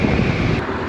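Honda NC750X motorcycle cruising down a motorway, heard as a steady loud broadband rush of wind buffeting and road roar with engine drone underneath, continuous and close, no talking.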